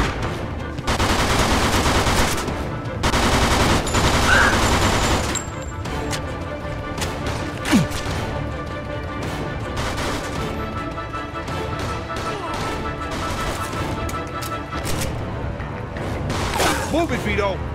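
Gunfire during a Mafia 2 shootout, with repeated shots and bursts ringing out over a loud, dense mix of game sound, strongest in the first few seconds and then continuing at a steadier level with voices heard among it.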